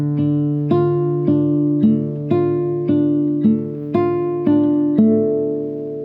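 Classical guitar plays the measure 1 finger-picking pattern of a Sagreras Book 1 study, with evenly spaced plucked notes in a steady repeating rhythm over ringing bass, close and clear with no talking.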